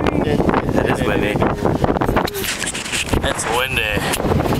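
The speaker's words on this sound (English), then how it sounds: "It's windy." Wind rumbles and buffets the microphone continuously on an open hilltop at a war memorial in Vermont while several people talk and laugh close by.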